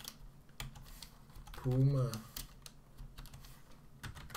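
Someone types on a computer keyboard in quick, irregular bursts of sharp clicks, with one spoken word briefly in the middle.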